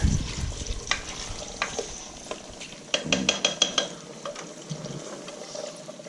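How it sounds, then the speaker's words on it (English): Pork fat renders into lard in a pot on the stove: a steady low sizzle runs under repeated scraping and clinking of a spoon against the pot, with a quick cluster of stirring strokes midway, loud and close with no talk. "Stirring."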